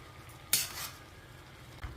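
A utensil scrapes and clinks against a metal pot once while stirring Maggi masala noodles, followed by a brief swishing stir and a faint knock near the end.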